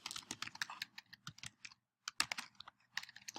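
Someone types the folder name "Language Arts" on a computer keyboard while setting up a Safari Montage playlist: close, crisp keystrokes in quick bursts, then a short pause and another flurry of taps.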